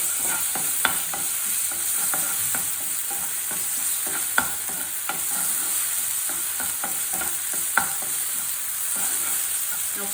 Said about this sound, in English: Now fry this also for 2 minutes.